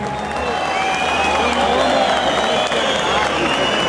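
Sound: welcome applause for the Nuevo Colón band

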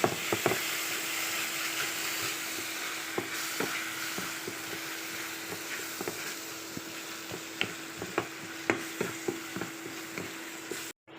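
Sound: stirring and mixing spices into raw jackfruit kebab mixture

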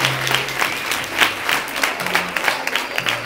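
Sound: audience applause

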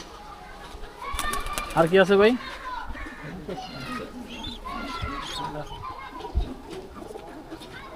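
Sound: pigeons cooing

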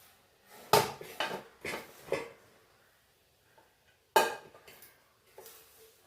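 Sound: plating chicken biryani, dishes clattering

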